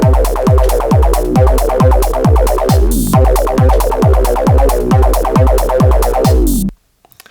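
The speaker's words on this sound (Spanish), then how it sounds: "simplemente he puesto el kick en negras a partir del compás 5 y esto suena así todo en conjunto." Acid techno beat with a 909 kick drum thumping on every quarter note under a buzzing, resonant synthesizer riff and hi-hats, loud and driving, stopping abruptly just before the end.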